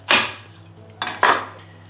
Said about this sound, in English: I'm going to get hold of a large knife and I'll cut it in the middle first.